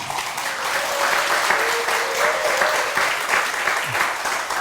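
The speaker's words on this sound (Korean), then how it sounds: "우리 박수로 모십니다" Audience applause in a Korean church service welcoming a guest to the front, a dense, steady wash of clapping that holds for several seconds, with a faint voice briefly underneath.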